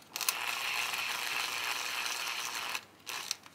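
Longer M3 screw being driven into a belt drive bracket with a ratcheting tool, a close, rapid clicking ratchet that runs steadily, pauses, then gives a short final burst.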